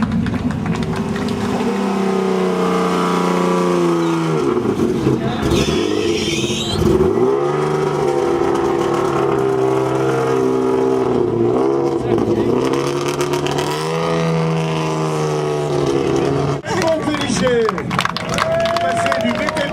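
A Schlesser rally raid car, driven by Bernard Alferiol at the Lac Rose event, runs with a loud droning engine that rises and falls through several revs, while a commentator talks over it and a crowd claps faintly.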